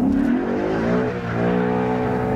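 Engine of a used 2015 Ford Mustang with a manual gearbox, a loud steady droning hum while driving, with a brief dip in pitch and level midway as it eases off and picks back up.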